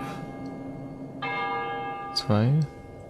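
A single church bell strike rings out in the horror game Cry of Fear. The tone is clear and sustained over a dark ambient background, followed by a short, low swooping sound.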